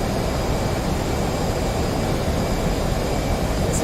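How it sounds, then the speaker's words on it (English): An F/A-18 Hornet jet roars past at supersonic speed in the DCS World flight simulator, a dense, continuous, loud engine rumble and hiss holding steady from start to finish with no voices. "we'll get her supersonic for you right quick for a lovely supersonic flyby"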